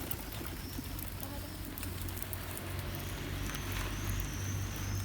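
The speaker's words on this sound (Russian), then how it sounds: "Обожаю кормить голубей." Pigeons gathering to be fed in a small city park, soft cooing and fluttering over a steady background hum of nearby traffic, with occasional higher bird calls drifting in.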